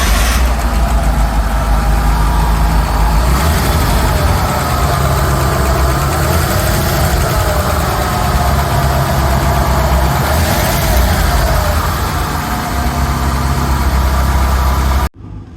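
A Rolls Royce Silver Shadow engine idling after work on a leak, a loud, steady, close rumble with a slight knocking vibration that runs unbroken and then cuts off abruptly at the end.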